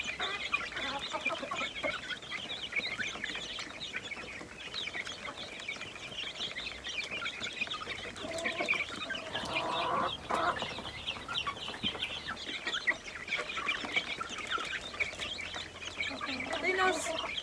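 Backyard chickens and chicks at feeding time, a busy flock clucking steadily and close, overlapping calls with occasional louder squawks throughout, a person talking now and then over them.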